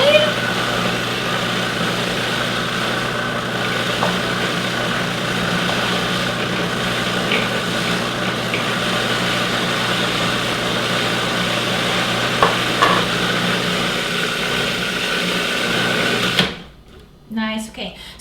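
A food processor whirls a walnut pesto pâté mixture in a steady, loud motor drone with the blades churning for about sixteen seconds before the machine cuts off abruptly.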